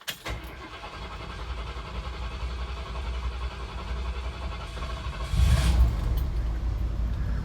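A 1979 Ford Bronco engine cranks and catches, then settles into a steady idle, heard close with a rise in loudness as it fires up.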